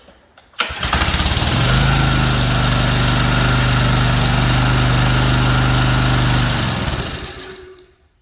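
A Briggs & Stratton ready-start engine on a pressure washer catches after a brief pull and settles into a loud, steady high-throttle drone, running alone before winding down at the end.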